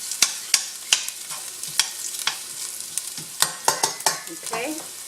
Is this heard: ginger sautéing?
yes